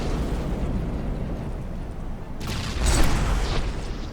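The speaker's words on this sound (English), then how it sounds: "That was a big explosion." A big explosion in the naval combat game From The Depths booms as a dense, sustained roar, swelling into a louder crackling blast partway through and rumbling on afterward.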